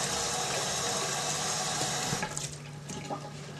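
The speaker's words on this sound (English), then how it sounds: "we'll give the tail a quick rinse" Running tap water pours steadily over a lobster tail being rinsed in a kitchen sink, a continuous close hiss that softens and breaks into splashes partway through.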